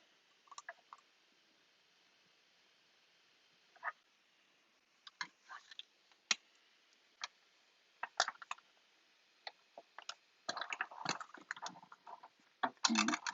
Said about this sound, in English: Now I'm just going to bring in my Stampin' Cut and Emboss machine, and we'll cut out these 2 last pieces.